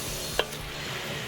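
Shrimp with garlic and ginger sizzling in hot oil over a Weber kettle grill, a steady close hiss with one brief sharp clink partway through.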